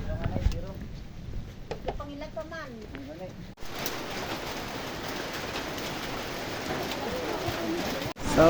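Heavy rain pouring down during a hike in rural highlands, a dense steady hiss that starts suddenly midway, after a voice speaks over faint bird cooing.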